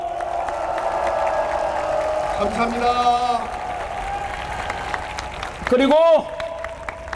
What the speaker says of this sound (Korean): 박수를 한번 크게 올려주십시오